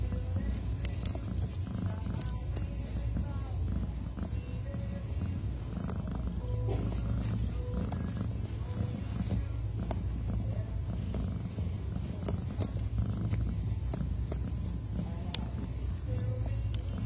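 A cat purrs close to the microphone in a continuous, steady low rumble that lasts the whole stretch, with faint rustling in the background.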